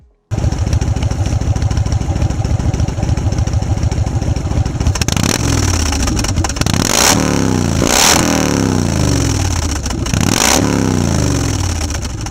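Kawasaki Vulcan 2000 cruiser motorcycle, a model discontinued in 2010, idles with a loud, steady rumble, then is revved hard in several rising sweeps that climb and drop back, close by, with no talking.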